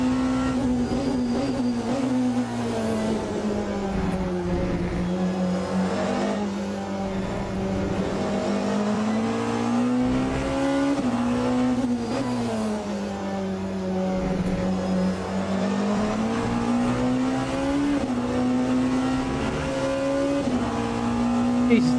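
A Porsche hypercar races in Le Mans Ultimate, its engine drone rising and falling through gear changes in a steady, continuous in-game racing sound, with a voice talking over parts of it.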